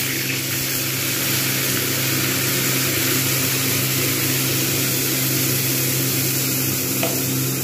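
Spice masala sizzles steadily while stir-fried with chicken for a coriander chicken curry, a constant close hiss with a low background hum and no pauses.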